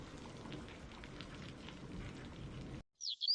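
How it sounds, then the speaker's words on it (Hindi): Steady rain falls outdoors as an even wash of patter for nearly three seconds, then cuts off abruptly, followed by a short, faint, high chirp. "बाहर तो बारिश हो रही है"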